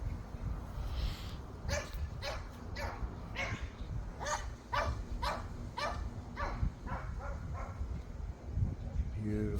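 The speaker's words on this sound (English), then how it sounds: "I love that dog. Sounds so happy." A dog barks repeatedly outdoors during a thunderstorm at sunset, the moderately distant woofs coming in irregular bursts throughout, with people talking quietly underneath.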